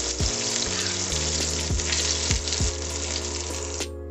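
Cumin seeds and onions fry in a pan for a dhaba-style egg masala curry, giving a steady, close sizzle that runs unbroken for the whole stretch with no talking.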